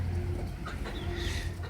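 Backyard chickens, a rooster among them, cluck and call softly at close range over a steady low background hum.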